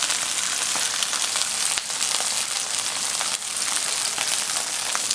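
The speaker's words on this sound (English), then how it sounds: "So you're going to put them down in the pan just like that." Jumbo shrimp, partially butterflied, sizzle loudly as they go down into a hot pan, a bright continuous crackling fry that stays close and steady, with a couple of brief dips and no talking.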